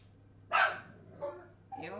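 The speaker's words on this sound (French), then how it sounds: "Bon, j'ai des chiens, ils aboient." Dogs barking nearby in a home kitchen, three short separate bursts spread over two seconds, with a faint steady hum underneath.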